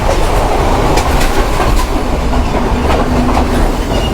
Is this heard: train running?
yes